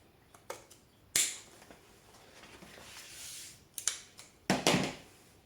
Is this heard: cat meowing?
no